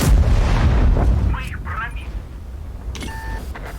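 A heavy, booming artillery shell impact in a tank video game rumbles loudly at the start, then fades into quieter background noise with a few short electronic beeps near the end.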